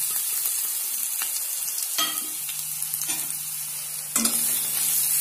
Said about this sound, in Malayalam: കടുക് പൊട്ടിയതിന് ശേഷം വെളുത്തുള്ളി, ഇഞ്ചി അത് ചതച്ച് വെച്ചതെല്ലാം മിക്സ് ആക്കുക.